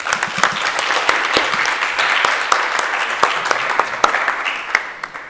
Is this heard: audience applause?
yes